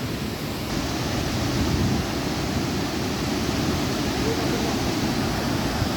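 Floodwater swollen with muddy runoff rushes steadily at the Bansalan dam, a loud, constant broadband roar with no pauses.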